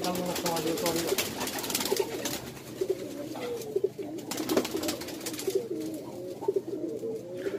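Pigeons coo in a loft in Kharkhari, Rajshahi, soft repeated burbling calls near at hand, partly under people talking.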